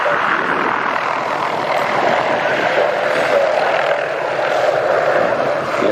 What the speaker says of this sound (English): jet plane.